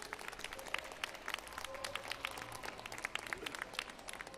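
Audience applause at a Christmas concert in Nagasaki: steady, dense clapping from a sizeable crowd, fairly distant and even in level throughout, with no voices on top.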